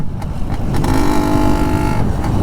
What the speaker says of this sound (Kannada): ಸ್ಮೂತಾಗಿ ಓಡ್ತಾ ಇದೆ ಇಂಜಿನ್